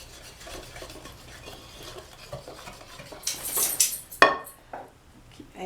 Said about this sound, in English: I'll have to mix it all up and then knead it for about,